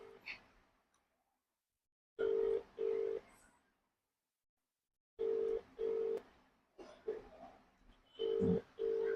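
A telephone call rings out with repeated steady ringback tones in pairs, separated by silence, followed by more tone bursts and some faint background noise near the end.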